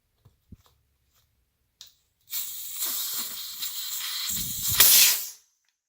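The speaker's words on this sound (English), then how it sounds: "loosen off the valve core and remove it" Air hisses hard out of the inner tube valve of a Xiaomi M365 electric scooter tire once the valve core is removed, a few small clicks then a loud, close, continuous rush of about three seconds that swells before cutting off.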